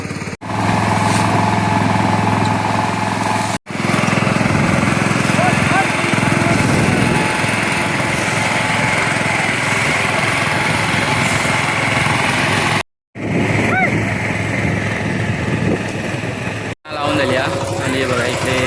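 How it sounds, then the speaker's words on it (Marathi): Tractor engine working a paddy field during Konkan rice transplanting, a steady loud droning rumble that runs almost continuously with a few brief cutouts, voices talking faintly underneath. "आणि बघा इकडे ट्रॅक्टर नेता"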